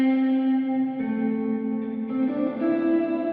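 Sustained guitar chords played through a Line 6 Helix reverb set to a fully wet 100% mix, washed-out ringing tones blurring into each other with long smeared tails, changing notes twice.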